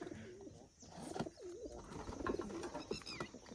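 Pigeons in a loft coo in soft, rolling, throaty phrases that repeat several times, close by and fairly quiet, with no voices.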